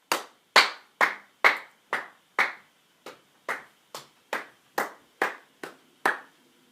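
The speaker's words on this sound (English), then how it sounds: "clapping your hands" A series of about fourteen sharp hand claps at a slightly uneven, steady pace, close and clear with no talking.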